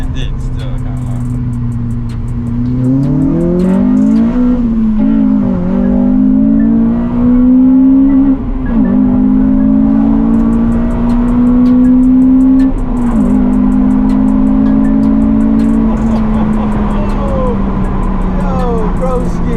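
A Honda Civic Type R FN2 fitted with a Tegiwa exhaust and HKS intake revs up and holds a loud, droning engine note that climbs and dips in pitch, with occasional speech over it.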